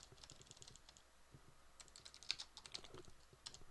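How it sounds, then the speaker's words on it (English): Fast, uneven typing on a computer keyboard, close and fairly quiet, with bursts of clicking keys and brief pauses and no voices. "I'm not typing very accurately today"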